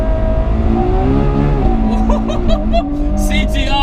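A Ferrari 812 Superfast driven hard around the Fiorano track with traction control off, its engine revving and shifting through rising and falling pitches close by, with tire noise and someone talking over it.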